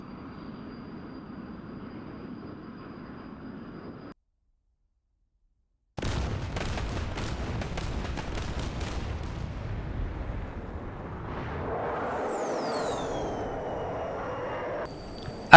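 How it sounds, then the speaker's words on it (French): Rocket salvos fire from an F-100D in a flight simulator game, a dense crackling barrage of launches after a brief silence, followed by a rumbling engine roar and a whooshing pass. "je tire mes salves de roquettes"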